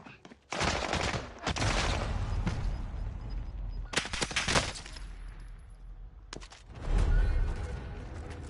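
Gunfire in the Warzone video game, loud close bursts of automatic fire in several separate volleys with brief quiet gaps between them, no talking over the shots.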